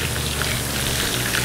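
A ham and cheese pork cutlet deep-frying in hot oil gives a steady, close sizzle with dense crackling, continuous throughout and free of talk.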